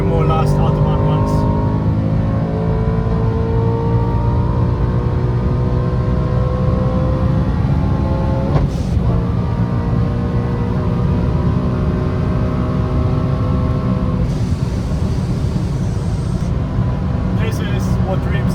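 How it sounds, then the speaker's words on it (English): Supercharged 750HP BMW E90 M3 at sustained high speed on an open Autobahn, its engine droning loud and steady with rising harmonic whine through gear changes, wind and road roar underneath, and someone talking over it. "700 horsepower, supercharged M3. Wide open Autobahn, nobody else out here."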